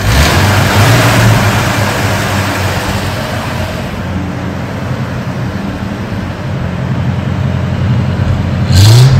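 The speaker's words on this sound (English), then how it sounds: "we turn the key, and then we press the starter button" A 1934 Packard Super Eight Model 1104 Club Sedan engine turns over and catches, settling into a steady, loud, close-up rumbling idle with a brief burst near the end.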